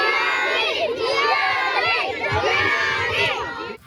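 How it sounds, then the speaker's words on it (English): A crowd of fans, many of them children, screams and cheers loudly and continuously at a baseball community event, with shouting voices overlapping throughout. "he had fans screaming his name"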